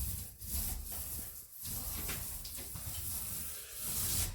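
A standard paint roller with a 3/8 inch nap spreads waterproofing membrane on a shower wall, making close, repeated wet rubbing strokes with short pauses between passes.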